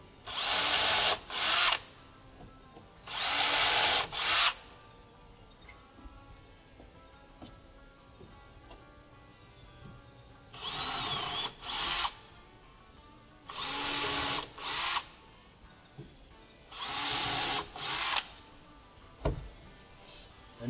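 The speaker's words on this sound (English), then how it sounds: "we'll pre-drill them" Power drill pre-drilling screw holes in wood for a deck bench, running in short bursts of a second or two in pairs with quiet pauses between, close and loud, no speech.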